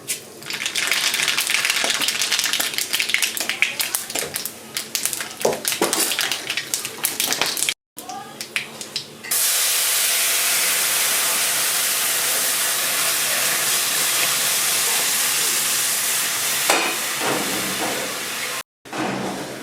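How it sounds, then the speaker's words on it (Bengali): Dried red chillies and mustard seeds tempering in hot oil in a kadai for a mango tok dal, with a loud, crackling, spattering sizzle that settles into a steady hiss, broken by two short gaps. "দুটো শুকনো লঙ্কা ফোড়নে দিয়ে দিচ্ছি দিয়ে দিচ্ছি কিছুটা সর্ষে"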